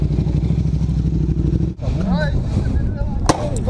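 Motorcycles revving at a motoshow on the Brno Circuit in the Czech Republic, a loud close engine drone that cuts out briefly and then returns with a sharp bang, under crowd noise.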